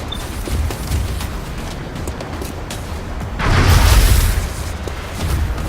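A weapon shot in the X-Com strategy game lands as a deep booming blast with a broad noisy burst, rising over a low rumbling game ambience and trailing off into background hum.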